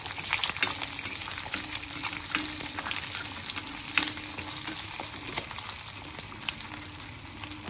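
Small onions and garlic frying in oil for a tomato kulambu, giving a steady moderate sizzle broken by a few sharp stirring scrapes and clinks in the first half.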